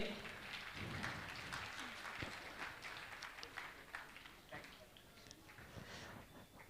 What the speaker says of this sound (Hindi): मैं चाहूंगा इनके सम्मान में जोरदार ताली बजाकर इनका सम्मान करें।